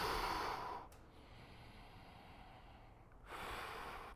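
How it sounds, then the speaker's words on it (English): A person breathes during a held front-splits stretch, with a strong audible exhale at the start, a quiet pause, then another loud breath near the end, close to the microphone. "Breathe."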